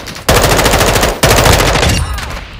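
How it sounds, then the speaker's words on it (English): Assault rifle fire in Call of Duty: Modern Warfare II: two loud, close bursts of rapid automatic shots, the second trailing off at the end, with no talk. "Assault rifle."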